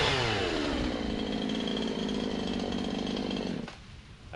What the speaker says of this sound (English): just learning to use the chainsaw